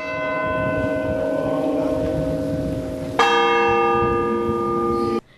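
Church bells toll mournfully on Good Friday, a loud sustained ringing with a fresh strike partway through whose overtones hang and fade before cutting off.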